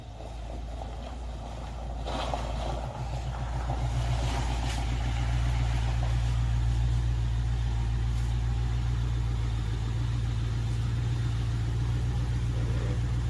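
A Chevrolet Corvette C4 with an open-header-style Borla exhaust idles as it rolls into a shop, a loud, steady low rumble that swells slightly and holds, with no talk.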